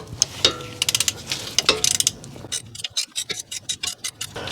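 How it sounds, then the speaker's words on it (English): Ratchet wrench on a Toyota Sienna ball joint stud, clicking in quick bursts as the nut spins off, close up with sharp metallic ticks and brief pauses. "looks like we're just getting the nut out without getting the stud with it"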